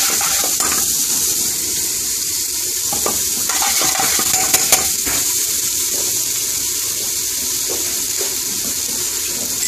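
Chopped onions frying in vegetable oil for coconut rice in an Indian restaurant kitchen, a steady loud hiss and crackle with occasional stirring scrapes throughout, no talk.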